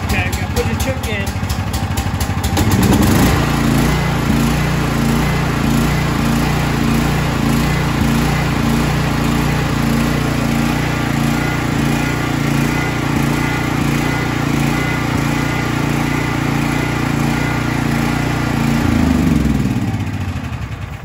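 A Briggs and Stratton Elite Series 10,000 watt portable gasoline generator pulls to a start, then runs loudly and steadily with a rough, throbbing drone before winding down near the end.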